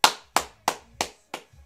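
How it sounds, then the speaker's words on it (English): A person claps their hands six times in an even rhythm, each sharp, close clap ringing alone with brief quiet gaps between them. "Epic Says, clap your hands five times."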